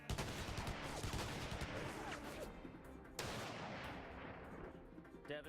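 Gunfire from the Xbox 360 shooter Blackwater, with loud booming shots that crack and then decay into long echoing tails, a second heavy blast landing midway.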